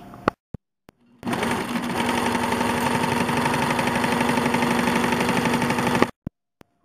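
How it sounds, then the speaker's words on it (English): A sewing machine stitches around a reversible tote bag in one steady, loud run of several seconds, its rapid needle rhythm starting and stopping abruptly, with quiet clicks before and after. "now I'm going to stitch that up, and I'll be back."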